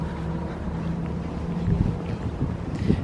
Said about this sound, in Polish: Tam też jakaś motorówka jest.